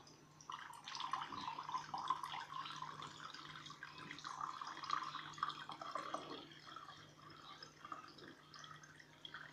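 A homemade mint lemon drink is poured out, a faint continuous trickle and splash of liquid for about six seconds before tapering into quiet.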